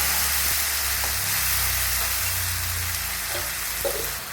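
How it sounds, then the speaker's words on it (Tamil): Radish, potato and brinjal sauté in a hot pan for vathal kulambu, making a continuous close sizzle with faint stirring scrapes underneath. "இப்போ காய்கறியெல்லாம் போட்டிருக்கேன் முள்ளங்கி உருளைக்கிழங்கு கத்திரிக்காய் எல்லாம் போட்டு உங்கள்கிட்ட என்ன காய் இருக்கோ அதை வதக்கிக்கலாம்"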